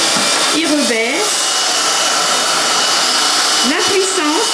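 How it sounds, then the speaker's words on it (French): A vacuum cleaner runs at a loud, steady roar throughout while its motor pitch rises and falls as automatic power control adjusts suction, with brief rising and dipping sweeps near the start and end. "La puissance est contrôlée automatiquement"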